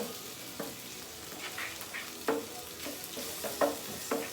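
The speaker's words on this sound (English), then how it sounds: "Scramble up the egg." Beaten egg is scrambled in a hot pan for a Chinese dish, with a soft continuous sizzle broken by repeated sharp scrapes and stirring strokes of a spatula against the pan.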